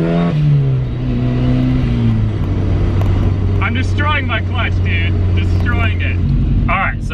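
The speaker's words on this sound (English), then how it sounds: "boost is instant with flatfoot shifting" A turbocharged Mazda Miata engine revs hard through flat-foot shifts, the pitch climbing and dropping between gears, while turbo whooshes and a voice shouting over the engine chime in toward the end.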